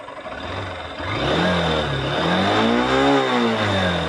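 A new motorcycle engine runs close by, smooth and even, its pitch rising and falling as it is revved several times, with no talking over it.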